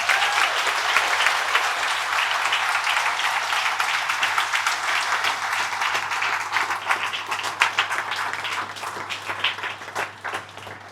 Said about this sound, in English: So first place deserves a massive round of applause.